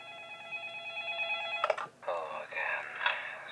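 A phone call in the horror game Five Nights At Smudgers: an electronic telephone ring tone sounds steadily for a moment, then cuts off into clicks and a muffled, fluctuating recorded voice.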